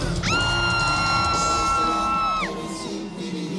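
A concert crowd at a Boyz II Men show lets out a loud sustained scream, one high held voice ringing above the roar for about two seconds before it fades into lower crowd noise.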